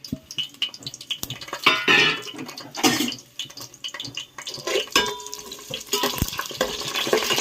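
Whole spices, shahi jeera, cardamom, cinnamon and clove, fry in hot oil in a home kitchen, a continuous near crackle and sizzle with stirring scrapes and brief bursts, no voices.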